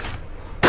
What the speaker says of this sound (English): I'm shooting people.